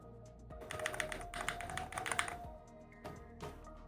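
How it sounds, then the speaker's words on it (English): Keys clatter fast on a newly built Glorious GMMK Pro custom mechanical keyboard, close and crisp, in dense bursts broken by short pauses and single keystrokes. "we have the clicky, the sound test for the board when we basically get the keyboard finished"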